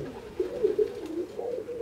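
Pigeon cooing in a breeding loft, the bird a son of a prized Vandic-Limburg racing breeder; a continuous low, warbling coo rolls on close by for about two seconds with no talking.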